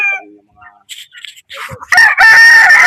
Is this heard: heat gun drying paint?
no